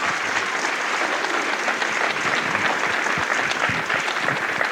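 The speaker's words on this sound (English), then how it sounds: "Please give him a round of applause." At the College of San Mateo Athletics Hall of Fame 2022 ceremony, a hall audience gives master of ceremonies Gary Dilly a round of applause, a full, close, steady roar of clapping lasting nearly five seconds without speech.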